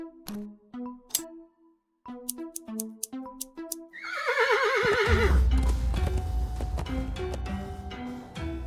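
A horse gives a loud, quavering whinny after a stretch of plucked music in the adventure game Willy Morgan and the Curse of Bone Town, then the music carries on beneath a low rumble.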